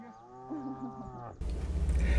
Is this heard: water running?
no